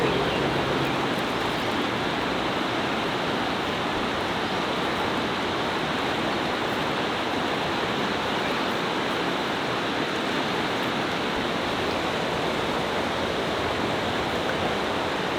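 A big creek the size of a small river rushes along in a steady, broadband roar that stays even throughout, with no voices.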